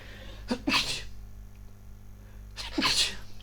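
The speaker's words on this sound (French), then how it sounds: "là j'ai bien éternué" Two sharp sneezes burst out about two seconds apart indoors, each with a quick inhaled lead-in, close and loud over a faint steady hum.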